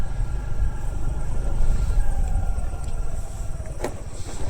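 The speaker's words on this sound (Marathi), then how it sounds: "मी गाडी चालवत आहे त्यामुळे मला जरा थोडा बोलायला जमत नाही आहे" A vehicle driven along a road at night heading to a river, a steady low engine and road rumble running throughout with faint higher tones, no talking.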